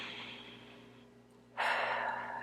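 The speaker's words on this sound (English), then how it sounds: "just take a breath in through your nose" A single long exhale follows a soft inhale during a guided grief-tapping meditation, the outward breath loud and close, with no talking.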